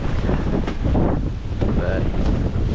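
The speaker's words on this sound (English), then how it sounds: "we just went through 55-mile-an-hour winds and rain" Strong gusting wind of a 55-mile-per-hour storm with rain, roaring steadily and buffeting close to the microphone around a campsite tent and Jeep, continuous and loud with no voices.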